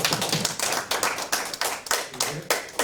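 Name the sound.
audience clapping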